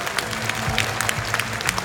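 A conference audience applauds steadily, dense crowd clapping throughout a short stretch with no pauses.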